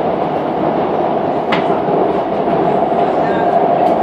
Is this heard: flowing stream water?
no